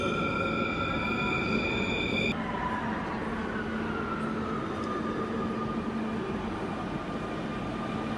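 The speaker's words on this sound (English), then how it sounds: "Barceloneta metro station." Metro train at Barceloneta station in Barcelona, a steady loud rumble with high whining tones that cut off after about two seconds, then a continuous drone with a falling pitch over crowded platform noise.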